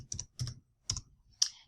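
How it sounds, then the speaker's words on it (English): Computer keyboard typing a username at a secure login window, four short bursts of close, crisp key clicks separated by brief pauses, with no voice. "In the username text bar, type in your WaveNet username."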